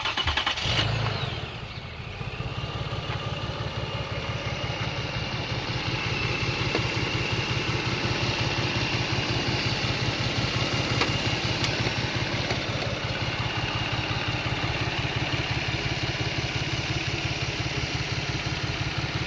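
A Toyota 3.3L 3MZ-FE V6 cranks and fires after a timing belt replacement, then settles into a steady, slightly rough idle that runs loud and close for the rest of the clip.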